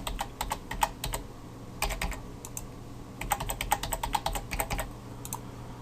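A computer keyboard is tapped in quick irregular bursts while a password is entered to set up a web hosting account. The keystrokes are close and fairly quiet over a low room hum, and nobody speaks.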